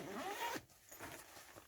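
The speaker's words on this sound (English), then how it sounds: "it's got a zipper" A zipper on a cat-themed bag with an internal pocket is pulled closed in one quick close zip, then a few softer fabric rustles and handling sounds.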